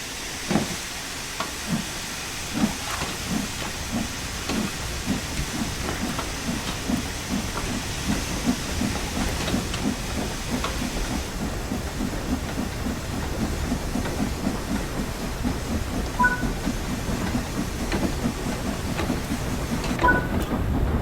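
A steam locomotive in the game Spirit of Steam pulls away from rest, with a steady hiss of steam over slow rhythmic chuffs that gradually pick up pace, plus faint metallic clanks and a couple of brief high squeals.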